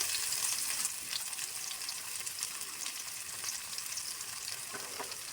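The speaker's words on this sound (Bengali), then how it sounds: "পেঁয়াজ রসুন ভালো করে ভাজা হয়ে গেছে" Chopped onion and garlic with bay leaf frying in hot oil in a home kitchen, a steady loud sizzle with small crackles and occasional stirring, continuous and close, with no voices.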